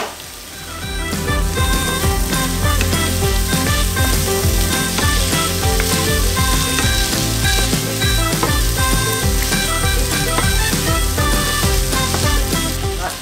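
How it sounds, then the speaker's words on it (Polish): Drained canned chickpeas frying with spices in a pan for a vegetable chickpea soup, a steady loud sizzle with clattering stirring and scraping throughout. "Tutaj mam odsączone dwie puszki ciecierzycy i będziemy smażyć jeszcze teraz minutkę."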